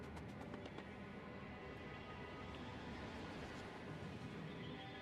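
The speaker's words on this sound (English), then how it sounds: "Go trains!" Trains rolling through the Fulgora world in the game Factorio, a steady low rumble with faint clacking, fairly quiet and continuous with no talk.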